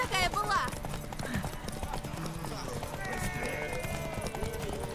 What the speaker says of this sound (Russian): Лошадь, скачи!